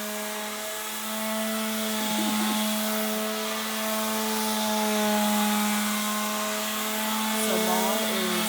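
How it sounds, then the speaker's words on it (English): Wood being sanded with a power sander, a continuous whining hum with a strong steady tone that swells slightly and holds for the whole stretch, close and fairly loud. "So mom is sanding all of this."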